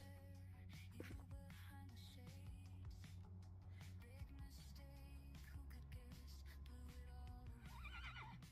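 Horse neighing in the fantasy online game Ashes of Creation, a couple of whinnies over a steady in-game music and ambience bed, with no speech.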